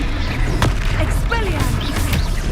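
Accio and Levioso spells cast in the Hogwarts Legacy video game come out as a short run of booming impacts, whooshing sweeps and sharp pops over a rumbling low background, close and loud throughout.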